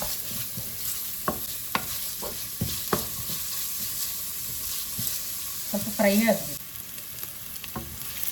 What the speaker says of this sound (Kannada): ಇವಾಗ ಆನಿಯನ್ ಹಾಕ್ತಾ ಇದ್ದೇನೆ. ಆನಿಯನ್ ಸ್ವಲ್ಪ ಫ್ರೈ ಆಗಲಿ.